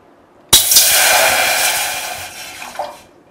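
Water pours into a cooking pot for modak dough, starting abruptly as a loud, bright rushing splash that gradually thins and ends with a faint trickle after about two and a half seconds.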